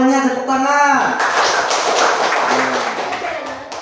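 A teacher speaks briefly, then a classroom of students breaks into scattered hand clapping that carries on for a few seconds at moderate volume, with taps and light thumps mixed in.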